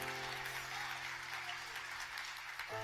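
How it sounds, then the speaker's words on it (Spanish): A church congregation claps in sustained applause during a pastor's sermon, a dense, even wash of hands that cuts off abruptly at the end, with a faint low hum beneath. "Dale ese aplauso a Dios si lo recibe."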